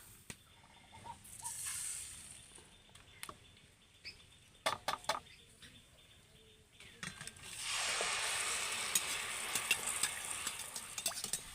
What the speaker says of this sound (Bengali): পিঠেটা তেলের মধ্যে দেওয়ার পরে এইভাবে কিন্তু একটু নাড়তে হবে